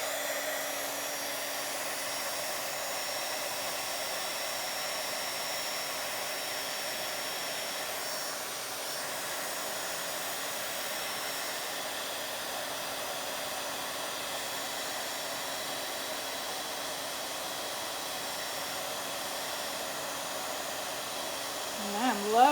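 Heat tool blowing steadily to melt embossing powder on paper doilies, a continuous whooshing fan and heater hum that stays even throughout, close up, with no talk over it.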